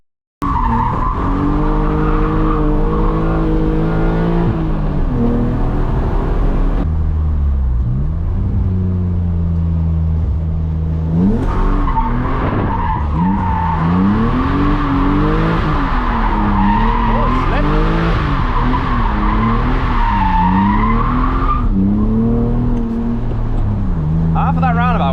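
A BMW E36 Compact with a swapped engine skids around a roundabout that is partly wet and slick, tires squealing through long, wavering skids while the engine revs and drops, loud and close, continuing almost without a break.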